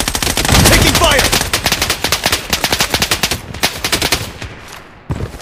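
Rapid automatic gunfire in the shooter game Project Bloodstrike, loud, dense bursts of close shots running almost continuously, thinning into separate cracks toward the end.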